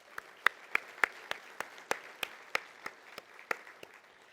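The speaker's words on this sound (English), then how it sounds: "Let's give another warm round of applause to Secretary Kim." Sparse, evenly paced claps at a transportation conference's opening session, sounding like only a few people clapping, with sharp, distinct hits about three per second over a faint room background.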